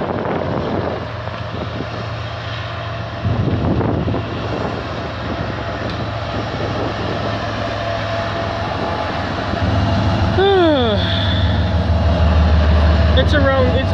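Train passing with CP locomotive 3828 leading in the greater Toronto area, a steady low rumble and rolling drone that swells toward the end, with a brief tonal squeal and background voices.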